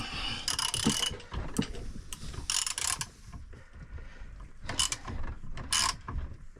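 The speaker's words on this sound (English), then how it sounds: "when you go and twist this thing with a wrench" A wrench works a rusted rear brake part loose on a 2005 GMC Envoy, giving repeated metallic ratcheting clicks and creaks in bursts, close and fairly loud with no talk.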